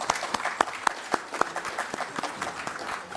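An audience at a theater festival applauds, a steady patter of many hands with sharper individual claps standing out near the front, moderately loud and unbroken.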